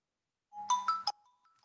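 A phone ringtone plays briefly and clearly: a short melodic burst of three bright chiming notes, followed by a faint lingering tone, with no talk over it.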